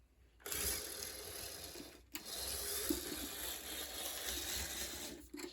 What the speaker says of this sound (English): it does not sound like this locomotive has any cracked gears